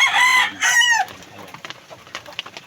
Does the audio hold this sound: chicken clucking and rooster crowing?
yes